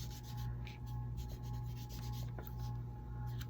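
Close, steady rubbing of walnut distressing ink onto crumpled cardboard, a soft continuous scratchy scrubbing in quick repeated strokes with no speech.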